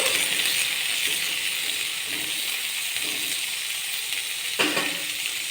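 Large onion pieces fry lightly in a pan with a steady, close sizzle and hiss, broken by a few soft stirring scrapes; no one speaks.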